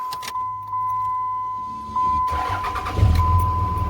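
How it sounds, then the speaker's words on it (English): A vehicle chimes steadily, then a 1967 Chevrolet C-10 pickup engine cranks and catches, rumbling close by as it starts running. "I'm going to have to start my pickup and give it some extra juice"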